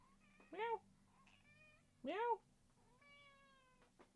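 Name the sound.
kitten meowing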